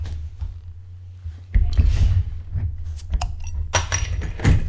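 Glass bottle of Santa's Butt porter being opened at close range: clinks and rattles of the cap and bottle, a sharp crack midway, then more handling clatter.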